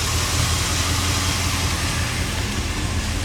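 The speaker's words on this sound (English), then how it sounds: "Listen to that thing run. Sounds good for a little Chevrolet motor." A Chevrolet 350 V8 with a turbo transmission, fitted in a 1940 Ford, idles at a steady, even rumble, close and continuous with no talking over it.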